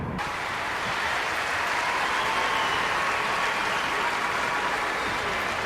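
Crowd applause in a swimming arena from the London 2012 video game, a dense, steady roar of clapping and cheering that holds at full level for the whole stretch with no talk.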